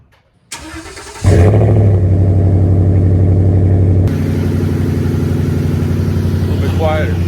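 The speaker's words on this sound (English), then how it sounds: "here goes the first start with the Thrush exhaust welded in backwards" A 2015 Ford F150 fitted with a Thrush muffler welded in backwards cranks, catches with a loud surge, then settles into a steady, deep idle rumble close by, its pitch dropping slightly partway through.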